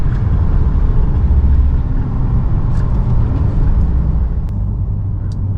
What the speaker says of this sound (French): Un 5 cylindres turbo, honnêtement, est-ce que c'est envahissant?